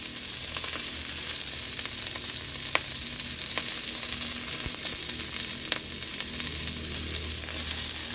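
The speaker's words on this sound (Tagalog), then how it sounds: "Halo-haloin lang natin yan mamaya mga idol, para lumabas yung mantika nya, para dyan tayo mag-isa." Pork fat frying in a pan as it is stirred to render out its oil, a steady loud sizzle with occasional spoon scrapes and pops throughout, no talking.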